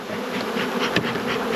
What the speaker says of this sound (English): It's a really strong box of bees.